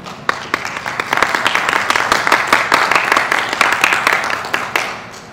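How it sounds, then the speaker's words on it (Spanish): A conference audience applauds the guests seated at the head table, steady dense clapping that swells and holds for several seconds before thinning out at the end. "despedimos con un aplauso a los compañeros que están acompañándonos en la mesa de honor"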